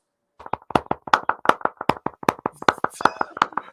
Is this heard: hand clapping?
yes